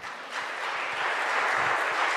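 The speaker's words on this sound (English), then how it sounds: "Could we give a round of applause to our MCs?" An audience at a youth oratorical contest applauds the MCs, a steady, fairly distant wash of clapping that swells slightly and holds without speech over it.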